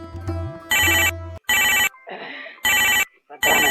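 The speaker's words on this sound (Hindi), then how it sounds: "पता नहीं के फोन आवत है" A telephone rings in repeated loud electronic bursts, four rings separated by short gaps, with a brief murmur of voice at the start and a softer noise between rings.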